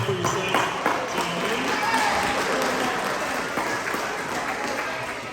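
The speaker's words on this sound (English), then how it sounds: "Now clap it up for yourselves." Middle school students at an assembly clap for themselves, a sustained wash of crowd clapping with some voices mixed in throughout.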